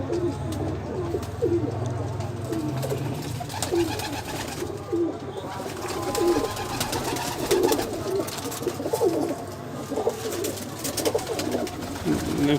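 Teddy pigeons coo in a loft, a male with his paired hen, with soft overlapping coos and murmurs repeating steadily over a busy background of other birds.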